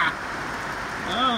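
Steady rain falls on a Sunday morning, a constant wash of broadband hiss, with a voice rising over it near the end.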